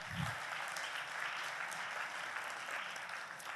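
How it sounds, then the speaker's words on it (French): Audience at a regional patronage conference plenary in Hauts-de-France applauds steadily, a dense, even wash of clapping from a large room that holds at a moderate level throughout. "On peut l'applaudir."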